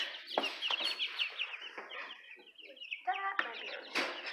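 Two-week-old chicks on a roost give a flurry of high, scattered peeps and clucks, fairly close and quiet, with one short trilled call near the end.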